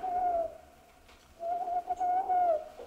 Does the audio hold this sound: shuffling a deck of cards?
no